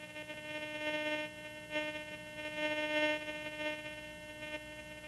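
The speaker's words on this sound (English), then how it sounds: "let's press the minus pad until the sound returns to the proper threshold level" A steady electronic threshold hum from a Garrett GTI 2500 metal detector drones on, swelling and dipping slightly in loudness, with no voices present.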